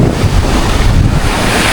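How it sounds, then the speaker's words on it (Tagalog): Loud rushing surf of ocean waves in stormy weather mixed with heavy wind buffeting the microphone, a continuous roar with no voices. "Alon na lang po."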